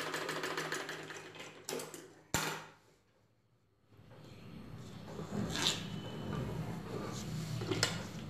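A sewing machine stitches the top of an umbrella in short bursts, with a pause and a sharp knock partway through. Stitching then resumes more quietly, and some handling noises can be heard nearby.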